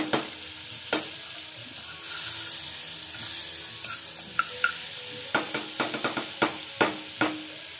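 Butter sizzling in a hot wok with a steady soft frying hiss, broken by a series of sharp utensil clicks and taps from stirring, more frequent toward the end; no one speaks.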